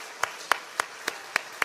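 A church congregation at a New Year's Day service claps in unison, six crisp, evenly spaced claps in a quick steady rhythm over quiet room noise.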